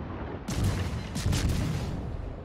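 Warship guns firing in World of Warships, shots from inside a smoke screen: two heavy booming salvos about a second apart, each with a broad rumbling tail, over continuous game background noise.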